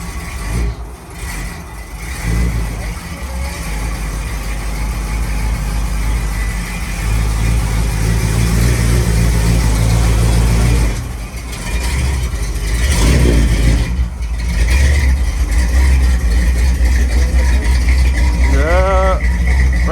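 A turbocharged truck running on E85 idles and revs after its first cold start, a loud, steady engine drone lasting throughout with a couple of brief surges, and a voice speaking faintly underneath.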